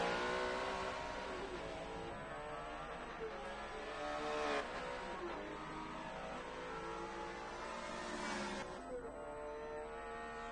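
Engine of a Laser GT3 race car in a racing game at Monza, revving hard with a rising, pulsing tone as it climbs through the gears, loud and continuous.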